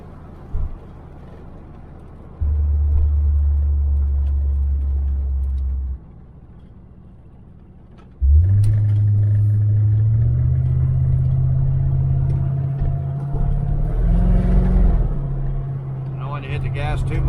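A 1985 Chevrolet Corvette with weather-cracked tire sidewalls drives on a road, its engine rumbling low and steady from inside the car, dropping briefly before revving up again, with a voice talking over it.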